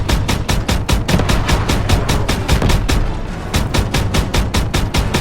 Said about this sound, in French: Tu es doué, Daniels! Tire direct